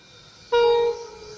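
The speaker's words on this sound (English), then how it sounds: "Possibility of a freight train about to pass through platform number one here at Wondabyne" A single loud, steady horn blast sounds for about half a second at Wondabyne station as a freight train approaches the platform, then fades into a quieter tail.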